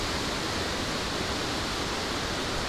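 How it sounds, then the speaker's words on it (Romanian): Steady, rushing water of a mountain stream on the hike to the Chalaadi Glacier near Mestia, Georgia, a dense continuous roar filling the whole clip with no other sounds. "Da, e pârâu chiar aici."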